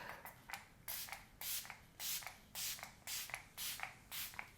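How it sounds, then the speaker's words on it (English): A facial mist spray lets out a series of short hissing bursts, about a dozen in quick succession, close and fairly soft, with light rustling between them. "I always come with some sort of facial spray before I start my makeup."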